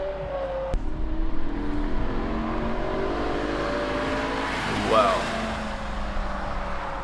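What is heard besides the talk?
rebuilt BMW M6 V10 car revving and driving down the street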